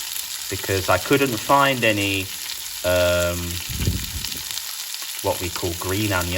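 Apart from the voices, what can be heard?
onion and red pepper sizzling in a pan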